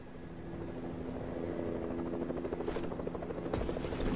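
A helicopter flies in a video game, a steady rotor drone and buzz that swells slightly louder over a few seconds, heard alone with no talk.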